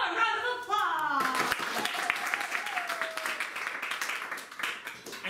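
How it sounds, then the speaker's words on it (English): A live improv comedy audience breaks into applause that starts loud over speech and tapers into scattered clapping, with voices talking throughout. "After one round of applause."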